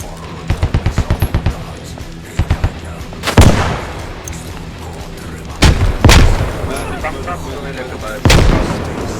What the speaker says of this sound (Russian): кидаю гранату осторожно.